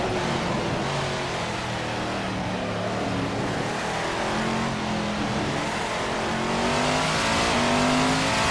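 A race car in Assetto Corsa brakes hard. The loud engine tone sinks as revs fall, with a hint of tire squeal, then rises again as it accelerates away.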